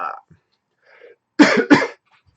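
Two sharp coughs in quick succession, close and loud, after a brief faint sound at the start and near silence.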